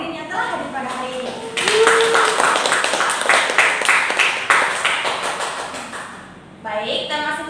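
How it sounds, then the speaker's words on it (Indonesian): An audience at a seminar breaks into steady, lively applause that lasts several seconds. A voice is heard just before the clapping starts and again after it dies away. "mari kita tepuk tangan yang meriah kepada seluruh hadirin yang telah hadir pada hari ini"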